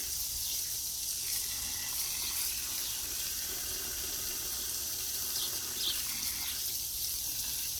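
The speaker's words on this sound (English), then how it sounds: "we're watering her roses and giving a drink to all the rest of her flowers and plants while we're here." Water streams steadily from a garden hose onto roses and other flowers and plants on a very hot day, a continuous gushing hiss with no talk over it.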